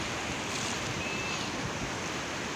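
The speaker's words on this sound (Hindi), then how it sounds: "अब जो इसकी छलें आ रही हैं बहुत मज़े की आ रही हैं" Sea waves breaking on a beach on the Chinese coast, a continuous rushing wash of surf mixed with wind buffeting the microphone, loud and close with no voices.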